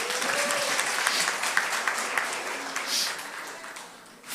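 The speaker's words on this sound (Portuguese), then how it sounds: "Salva de palmas." A church congregation applauds during a sermon, steady many-handed clapping heard from a moderate distance and fairly soft, tapering slightly near the end.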